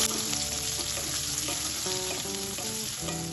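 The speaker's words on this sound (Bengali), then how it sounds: "পেঁয়াজটা তেলে একটু ভেজে নেব হালকা" Chopped onion frying lightly in oil with tempering spices for a prawn and Malabar spinach dish, a steady close sizzle with soft stirring, under faint background music.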